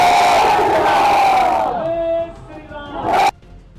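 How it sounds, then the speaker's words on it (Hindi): A large crowd at a Bengal election rally loudly chants the Jai Shri Ram slogan in unison, the massed voices holding steady, then breaking off, with a brief shout rising again before cutting out. "भीड़ की तरफ से जय श्री राम का नारा लगना शुरू हो जाता है"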